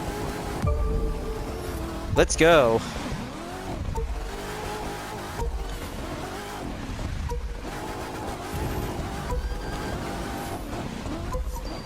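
A hypercar engine roars in The Crew 2 racing game, rising and falling through revs with a brief tire squeal, while a voice talks over the driving.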